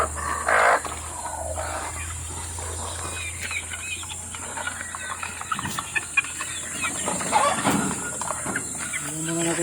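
Golden chickens on a backyard farm: a mother hen gives soft clucks among small chick peeps, mid-distance over a steady outdoor background, with a few louder calls.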